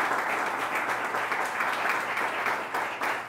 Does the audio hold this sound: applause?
yes